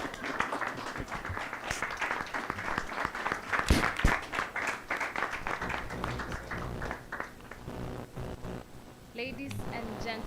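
Audience at a MindFest 2021 event breaking into sustained clapping and applause as Miss World Kenya appears, a dense steady wash over background music that thins toward the end.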